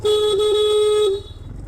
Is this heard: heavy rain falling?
no